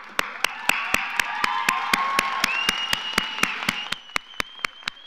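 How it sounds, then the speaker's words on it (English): Graduation ceremony crowd applause for graduates, with sharp, regular loud claps standing out near the front, over a steady wash of clapping and faint voices. "Everyone, please stand and give a round of applause for our graduates"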